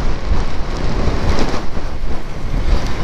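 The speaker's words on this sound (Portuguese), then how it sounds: "Ai, chuvinha, me deixa chegar em casa." Steady broadband rush of wind buffeting the microphone with rain during a motorbike ride in a storm, loud and continuous throughout, no voices.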